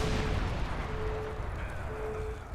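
Grenade explosion in the Crackdown video game: a loud, dense low rumble right at the start that decays slowly over a couple of seconds, with no talking.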